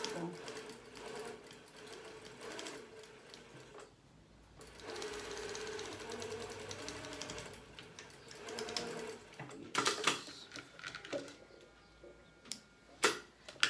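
A sewing machine stitches a straight seam on a pillowcase, its needle running in steady sustained bursts with brief pauses, while someone speaks over it in Portuguese.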